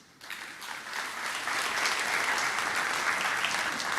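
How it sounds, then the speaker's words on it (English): Applause at an awards ceremony in Trinidad and Tobago swells from quiet to a full, steady round of clapping from a large audience. "we salute you with a round of applause."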